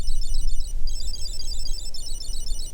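A disc golf locator beeper on its bamboozle setting sends out a steady stream of rapid, warbling high-pitched beeps. It is close and clear, with only a very brief break, over a faint low hum.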